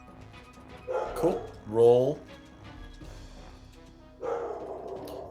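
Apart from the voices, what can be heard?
dog barking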